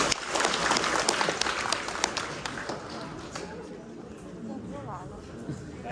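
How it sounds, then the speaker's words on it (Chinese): An audience claps and applauds at a live crosstalk comedy show, a dense, steady patter of many hands close by that thins slightly toward the end, with some voices mixed in. "感谢大家的掌声"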